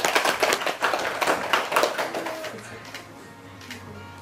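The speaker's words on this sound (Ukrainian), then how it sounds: "А ви такими маленькими оплесками попробуємо їх підтримати" A small gathering gives a short, light round of applause at a wedding registration ceremony in Ukraine; patters of clapping fill the first two seconds or so, then fade into a quiet room with a faint steady tone.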